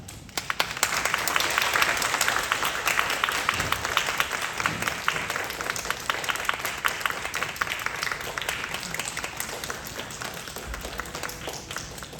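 Sustained audience applause fills a church hall during a young-adults Rejoice worship service, steady dense clapping from a crowd at moderate distance, holding evenly throughout without talk.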